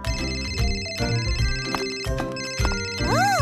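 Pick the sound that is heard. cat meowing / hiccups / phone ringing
phone ringing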